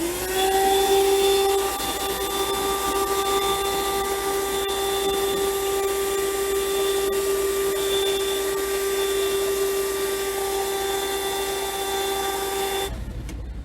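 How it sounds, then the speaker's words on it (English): A 4-in-1 car vacuum cleaner runs its suction motor, a loud steady whine with a strong tonal hum that holds evenly for many seconds before cutting off abruptly near the end. "Let's look at its suction power."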